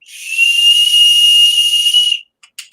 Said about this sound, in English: It's really a whistle for the ladies.